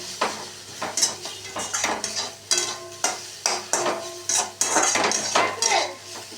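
A pan of fried leafy greens is handled on a home stove, with a run of clattering metal knocks and scrapes in an irregular rhythm over a soft sizzle, close and fairly loud.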